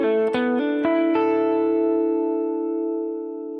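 A capoed guitar plays a short phrase with a hammer-on: several quick plucked notes, then a held chord rings out and slowly fades, close and clean with a slight effect.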